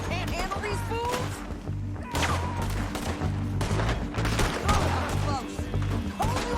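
Gunfire in the Western video game Red Dead Redemption 2, sharp shots and impacts bursting irregularly over a low rumbling score, with a few spoken voices mixed in among the blasts.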